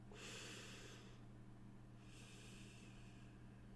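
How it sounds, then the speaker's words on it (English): A person breathes in and out slowly, two soft airy breaths a couple of seconds apart, close and quiet over a faint steady hum. "Did you hear that? Your breath?"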